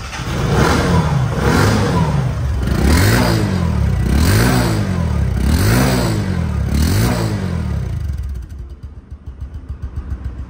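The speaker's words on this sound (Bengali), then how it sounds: "এই সাইলেন্সার থেকে সাউন্ড বেরোচ্ছে" A 2024 Bajaj Discover 125cc motorcycle engine revs through its silencer in repeated rising-and-falling bursts, about five loud throttle blips close up, then settling into a softer idle near the end.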